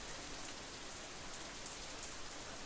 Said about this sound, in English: The rain increases a little more, offended that we haven't fled yet.